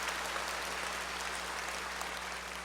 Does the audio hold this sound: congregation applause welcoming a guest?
yes